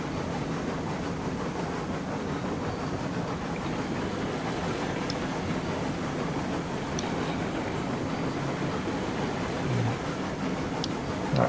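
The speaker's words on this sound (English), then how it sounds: "Quite a long train." A long train rolling slowly over rails through curves in the video game Railroads Online, a continuous low rumble and rolling noise with faint metallic clicks, steady throughout.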